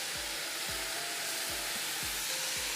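Vegan kibbeh filling is stirred in a frying pan about 35 cm across, held with both hands. A steady close sizzle runs throughout, with a scraping stroke roughly every half second.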